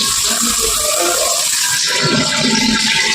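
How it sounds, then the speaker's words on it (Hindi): Water gushes steadily and loudly into a newly installed Indian toilet flush tank, a dense close rushing fill that stays constant throughout with no voices. "देख लो कितना बढ़िया पानी आ रहा है दोस्तों"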